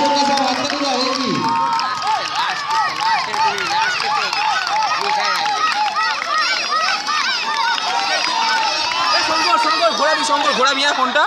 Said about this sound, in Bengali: হাততালি দাও, হাততালি দাও, দর্শকরা সব হাততালি দাও।